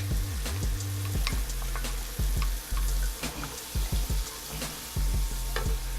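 Diced onion sizzles in a skillet with pork chop drippings. The frying hiss is steady and close, with scraping and clattering from stirring throughout.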